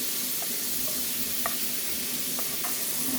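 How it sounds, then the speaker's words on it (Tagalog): Ground meat sizzles softly in a pan as it is stirred, a low, steady frying hiss with a few faint scrapes of the utensil against the pan. "Haluhaluin natin hanggang sa mamutla yan."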